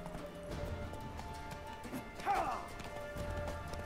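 Roach the horse galloping in Witcher 3: Wild Hunt, rhythmic hoofbeats under game sounds with a brief louder clash midway; a voice talks faintly in the background.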